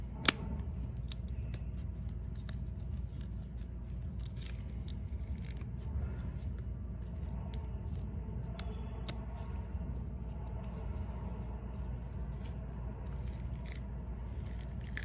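A two-part silicone mold for a slot car body is peeled open by hand, giving close, soft crackling and sticky tearing sounds with small irregular snaps over a low steady background hum, no talking.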